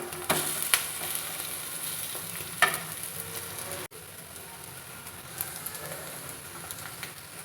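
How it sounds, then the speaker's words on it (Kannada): Bread omelette fries in a pan with a constant close sizzle, broken by a few scraping stirs or turns and a brief drop in the hiss midway. "ಇನ್ನೊಂದು ಸೈಡು ಸಹ ಚೆನ್ನಾಗಿ ಫ್ರೈ ಆಗಲಿ."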